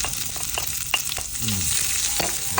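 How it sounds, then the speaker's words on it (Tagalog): Garlic and onion fry in hot oil in a pan, giving a loud, continuous crackling sizzle with brief stirring scrapes, and no voices. "Pwede na po natin lagay yung ating bawang sibuyas"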